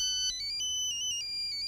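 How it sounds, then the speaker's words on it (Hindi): A phone ringtone rings in a scene from a Hindi-dubbed film, a loud electronic melody stepping between high pitched tones, steady and continuous over a faint low hum. "रंभा का फोन है।"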